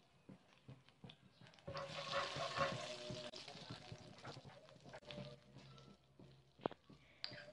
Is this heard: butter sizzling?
yes